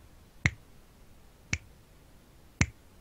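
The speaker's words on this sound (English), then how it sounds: "I gotta snap my fingers" Three crisp finger snaps, evenly spaced about a second apart, sharp and fairly close against a quiet background with no talk.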